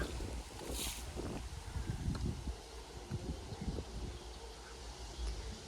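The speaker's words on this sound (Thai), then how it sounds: "ฟังเสียงลมจ้าลมแห้งคักจ้า" Dry wind blows over a cauliflower and broccoli vegetable field, a steady gusty rush buffeting the microphone with faint rustling throughout.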